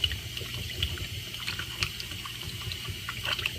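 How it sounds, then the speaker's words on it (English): Tap water runs steadily into a pot being filled to rinse peeled green onions, a continuous close splashing with no talk. "you're going to fill up the pot with water"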